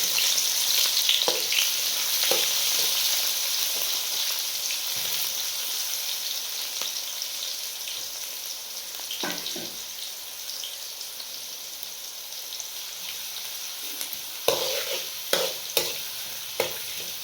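Beans frying in oil in a home kitchen pan, a steady bright sizzle with scattered crackles and a few sharper pops and stirring clatters toward the end, with no talk over it.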